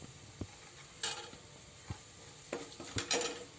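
A spice mix frying in a pan as asafoetida is added gives a faint sizzle with a few scattered spoon taps and scrapes, close and quiet, with no talk.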